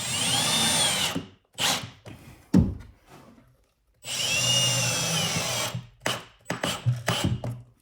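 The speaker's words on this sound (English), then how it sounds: "I'm going to sink a couple of screws through the floor of this into the floor of the cabin" Power drill driving screws through a floor into a cabin floor: several close, loud whirring bursts with short gaps and a thud between them, ending in quicker stuttering pulses.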